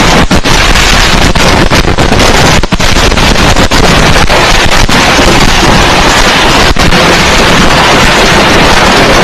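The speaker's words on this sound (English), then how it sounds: "Make sure you're being careful with your fireworks this Tuesday, man." Fireworks going off back to back in a dense, loud barrage of cracks and pops, with sharp bangs standing out over a continuous crackling roar.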